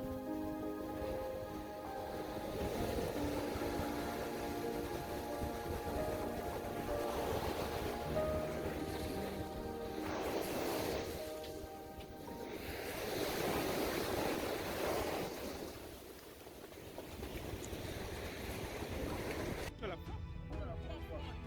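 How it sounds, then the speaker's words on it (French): Atlantic Ocean surf pounds the beach at Ouidah in a constant broad roar, with swells rising and falling over about twenty seconds, mixed with wind buffeting the microphone and some background voices. "C'est l'océan Atlantique et c'est très violent."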